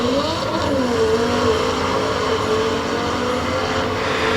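Several cars racing, a Porsche among them, one fitted with a turbo, roar steadily and loudly together in a continuous engine drone without a break.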